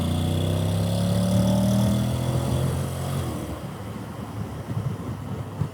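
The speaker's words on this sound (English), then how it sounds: "as you can probably hear, the exhaust noise isn't the best" Honda X-ADV 750 scooter with its exhaust note as a steady, fairly loud engine drone that fades and roughens into wind noise and rumble partway through.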